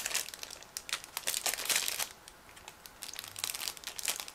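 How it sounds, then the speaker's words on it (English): Sealed plastic bag holding Miniart 1/35 scale model kit sprues crinkling and crackling as it is handled and opened, close and irregular bursts with a brief lull midway, no voices. "It is sealed plastic bag. So that's why we will have to use scissors in order to open it"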